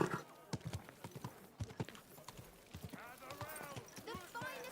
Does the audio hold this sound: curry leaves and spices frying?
no